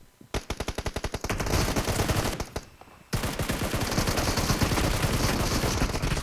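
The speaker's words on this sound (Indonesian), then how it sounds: "Bisa-bisanya dia ngambil shotgun" Rapid bursts of gunfire from a mobile shooter video game, loud and dense, with a stuttering string of shots followed by a brief lull and then sustained continuous firing.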